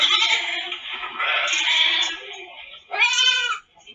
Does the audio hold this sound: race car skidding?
no